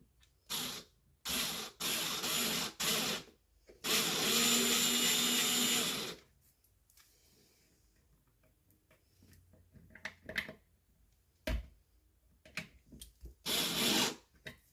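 Screws being driven into a drawer unit in several loud bursts of whirring, tool-like noise, the longest lasting about two seconds, separated by quiet pauses with small clicks and taps.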